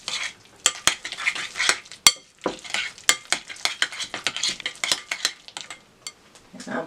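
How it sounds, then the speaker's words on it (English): Seasoned fish taco filling with cod, salt, onion powder and chili pepper being stirred in a pan: a rapid series of sharp utensil scrapes and clinks over a soft sizzle, close and fairly loud, with no talking. "I'm going to give that a stir."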